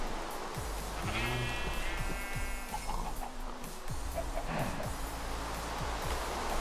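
Sheep in a video game bleat several times in short wavering calls over a steady background wash of rain or surf.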